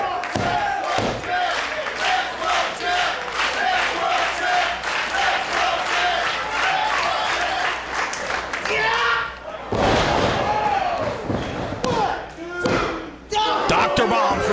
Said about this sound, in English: Handspring into swinging DDT.